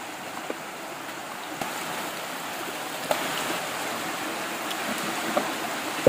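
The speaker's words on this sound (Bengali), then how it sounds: "ঝর্ণার গতিপথের শব্দ শোনা যাচ্ছে না?" A stream flows steadily near the mouth of Alu Tilla hill cave in Bangladesh, a broad, constant rushing hiss of water with a few faint knocks and a louder thump at the very end.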